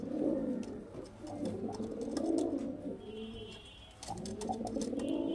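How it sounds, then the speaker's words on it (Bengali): Desi pigeons coo steadily and close by, their soft throaty rolling calls overlapping with faint chirps, with no voices present. "এই হচ্ছে দেশি পায়রা ফ্রেন্ডস।"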